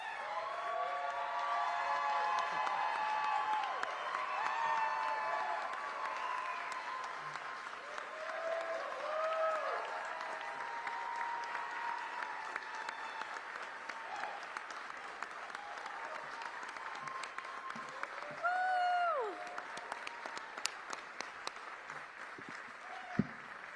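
A large crowd at a political rally for an Indiana Democratic governor candidate and running mate applauds steadily, sustained clapping with occasional cheers and whoops throughout, fairly distant and unbroken.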